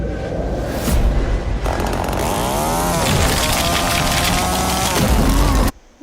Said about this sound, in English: dude with the chainsaw